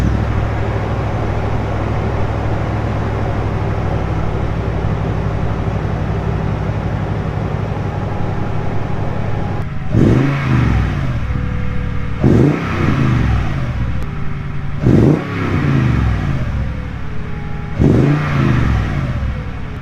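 A 2018 Toyota Tundra with the 5.7 V8 and TRD dual exhaust cold-starts into a steady, loud idle, then revs sharply four times in quick bursts that fall back to the rumbling idle.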